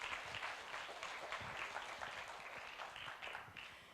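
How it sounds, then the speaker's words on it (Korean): Audience applause welcoming a professor to the stage at a Korea University Tiger's Day event, a steady wash of many hands clapping at moderate distance for about four seconds, with no speech over it. "우리 양현정 교수님, 네, 큰 박수로 맞이하도록 하겠습니다."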